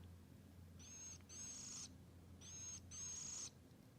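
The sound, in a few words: cedar waxwing quiet chirp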